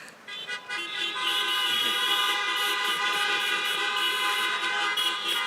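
Many car horns blare together from a crowd of drivers at a rally, a loud sustained chorus of overlapping honks after a short ragged start.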